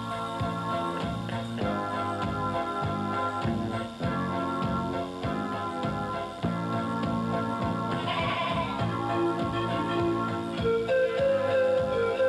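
Goats from Texas on a farm at Saint-Antoine-Abbé bleat over a busy backdrop of music and noise, with several wavering calls near the end.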